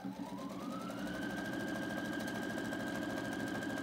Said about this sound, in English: I'm going to lower my presser foot and push start.